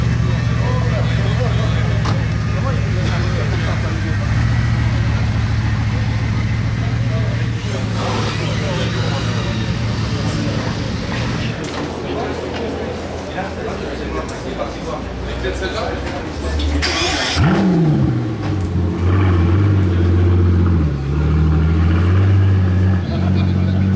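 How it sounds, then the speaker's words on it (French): A W16 hypercar engine fires up and revs, a loud, steady deep drone that dips and then swells into rising revs near the end, heard up close among a gathering of hypercars with voices mixed in. "Petit démarrage de W16, on dit jamais non"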